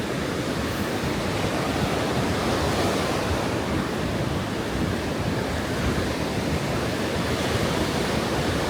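Ocean waves break steadily on a beach at Long Beach Island on a cold, windy day, a continuous loud wash of surf with wind noise and no voices.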